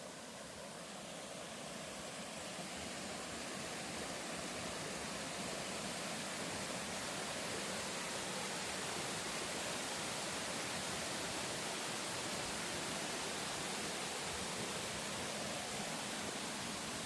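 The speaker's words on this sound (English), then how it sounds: "That waterfall was pretty awesome." A waterfall beside the Appalachian Trail gives a steady, unbroken roar of rushing water throughout, close and full, with no voices.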